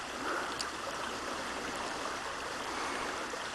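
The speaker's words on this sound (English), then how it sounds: "we have a creek that goes along here" A creek flows along its bed outdoors, a steady, dense rushing and babbling that stays constant and fairly close throughout, with no voices.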